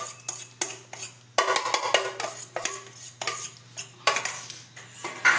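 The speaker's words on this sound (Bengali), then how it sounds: "এবার একটু মিক্স আপ করে দিই।" Gobindobhog rice being stirred in boiling milk for Bengali payesh, with close, repeated metal-on-pot scraping and clinking strokes in an uneven rhythm and a faint bubbling hum underneath.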